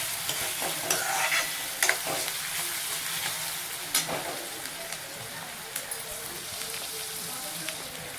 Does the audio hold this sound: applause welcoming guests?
no